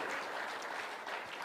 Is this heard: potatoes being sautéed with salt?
no